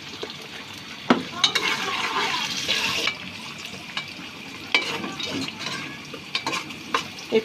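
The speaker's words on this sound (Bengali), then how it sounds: "পোলাওটা রান্না করব সেই জন্য আমি পোলাওর পেঁয়াজটা বেরেস্তা করে নিচ্ছি" Sliced onions fry in oil into crisp beresta for pulao, sizzling steadily while a utensil stirs and knocks against the pan in irregular clanks.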